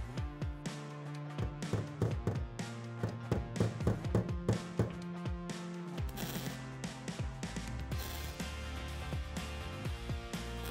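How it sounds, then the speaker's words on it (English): A body hammer tapping sheet metal to fill holes in a car panel, a rapid series of light, ringing metallic taps in an uneven rhythm, close and moderately loud. "I'm just gonna use the body hammer, just tick,"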